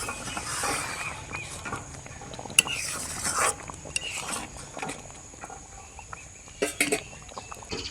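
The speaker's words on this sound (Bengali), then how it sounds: "তরকারির সঙ্গে ভালো করে মিশিয়ে নেব।" A spoon clinks and scrapes against a pot while garam masala is stirred into a pumpkin and mung dal curry, with irregular metallic taps and scuffs coming close and at moderate volume.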